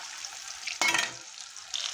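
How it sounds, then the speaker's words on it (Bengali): Chicken pieces frying in oil for chicken Manchurian: a soft background sizzle, then a sudden loud burst of spitting as a piece hits or is turned in the oil, fading back to a low crackle. "চিকেন আমার এক পিঠ ভাজা হয়ে গেছে, আরেক পিঠ আমি উল্টে দিলাম, লাল হয়ে গেছে।"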